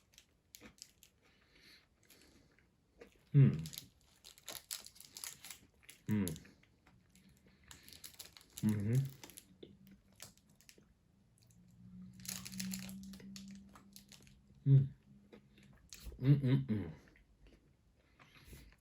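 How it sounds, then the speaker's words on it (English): Crunchy bites of a Cadbury Double Decker chocolate bar with a cereal layer, several distinct close crunches spaced a few seconds apart followed by softer chewing, with a faint hum underneath. "so here's the double-decker bar. Let's give it a taste."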